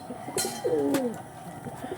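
Old-generation pet pigeons kept for sale give a single soft, rolling coo up close, with faint rustling and clicks around it and no talking.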